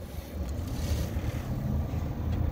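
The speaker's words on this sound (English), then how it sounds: "I heard the blower start up" A Lennox rooftop HVAC package unit's blower runs as a steady, loud, low rumbling whoosh that stays close and continuous, with no talking.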